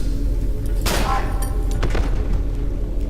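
Gunfire in the horror video game Cry of Fear, with a burst of sharp, loud shots near the one-second mark and a second shot around two seconds, over a constant droning game background.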